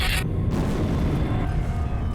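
A deafening explosion that destroyed sixteen houses and shattered windows hits as a sharp burst, then settles into a heavy, sustained low rumble.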